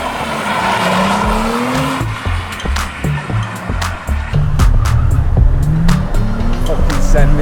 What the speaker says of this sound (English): This is proper drifting, this boys.